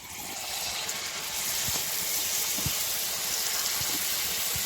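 Rice and lentil pakoras deep-fry in hot oil with a steady, close bubbling hiss, broken by a few soft pops and clicks.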